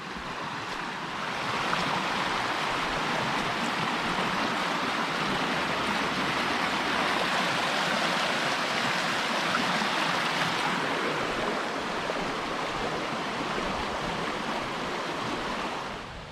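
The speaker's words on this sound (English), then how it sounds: "Creek's running pretty good this morning." Continuous broad rush of a creek flowing strongly nearby on the Appalachian Trail, loud and steady throughout, with no voices.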